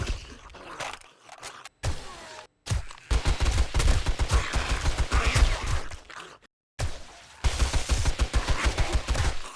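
Dense rapid gunfire and explosions from NPC allies in the zombie survival game 7 Days to Die, near-continuous bursts of shots with brief gaps, loud and close, no talk.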